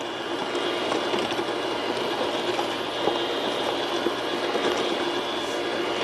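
An EGO PH1420 battery mini tiller on its 56-volt system runs steadily with a quiet, even whir and rattle, with no talking.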